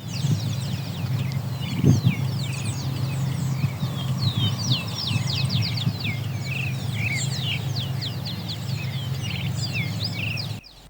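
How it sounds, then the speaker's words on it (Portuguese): Many birds sing in the background of a coffee plantation in Araguari, Minas Gerais, rapid chirps and trills layered together over a low steady rumble. "principalmente o som dos passarinhos aí ao fundo"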